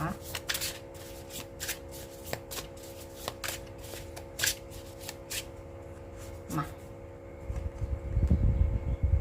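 Thai oracle cards being shuffled during a fortune-telling reading, with repeated quick riffling bursts and soft card slaps in an irregular rhythm, close and clear; someone speaks briefly in the background.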